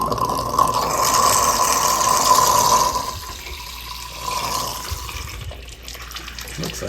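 Water rushes and drains from a water heater line through a shower valve, a loud steady hiss for about three seconds that then drops to a quieter, uneven trickle.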